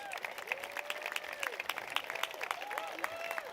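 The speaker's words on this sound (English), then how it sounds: "please stand up and everybody gives them a round of applause, please." Wedding guests applaud the parents in a dense, steady crowd applause with occasional whistles over it, moderately loud and continuous throughout.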